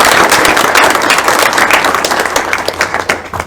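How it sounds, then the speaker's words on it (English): An audience at an indie game developers' panel applauds the team, a loud, dense burst of many hands clapping that gradually thins and tapers off toward the end. "So another round of applause for our fantastic team."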